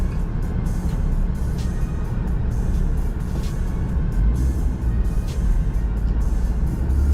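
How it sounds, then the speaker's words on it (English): Steady, loud road traffic during an evening commute home, cars and trucks rumbling continuously nearby with occasional hiss of air brakes and passing vehicles, no talking. "A lot of traffic."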